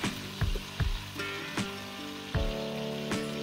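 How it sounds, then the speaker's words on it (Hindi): Chicken fries in oil in a karahi, a crackling sizzle punctuated by several heavy metallic clangs and scrapes of a utensil against the pan, with humming tones in the background. "इसको हम अच्छे से पहले इसको इस ऑयल में फ्राई करेंगे"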